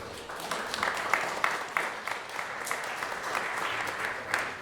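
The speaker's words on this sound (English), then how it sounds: "let's give one more round of applause to our keynote speakers" A conference audience gives a round of applause for keynote speakers, a moderately quiet, steady wash of many hands clapping with a few sharper claps standing out.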